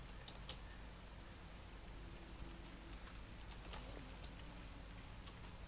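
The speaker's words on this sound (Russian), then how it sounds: "Дождик закончится, я тебя умоляю." Soft, steady rain in S.T.A.L.K.E.R.: Call of Pripyat patters faintly in the background, a quiet continuous hiss with occasional louder drops.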